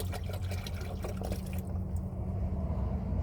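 Steady pouring of water, a continuous splashing gush with a slight change in tone partway through, close by with no voices.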